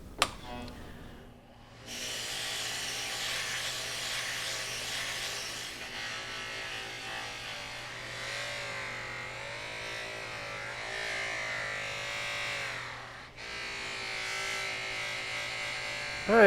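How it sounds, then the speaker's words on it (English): A buffing wheel charged with brown compound polishes metal, giving a steady, loud high-pitched motor whine with a rough rubbing hiss that shifts in tone as the piece is pressed against the wheel, continuous and up close with no talk. "I'm over here on my buffing wheel, and I only run black and brown compound on this wheel"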